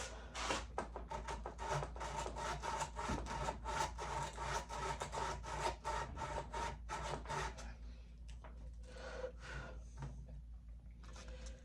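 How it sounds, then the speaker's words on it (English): Wet sanding a crown with lubricating oil, a rapid rhythmic rasping of back-and-forth strokes, close and steady, thinning out toward the end. "we're going to be using a lubricating oil for our wet sand"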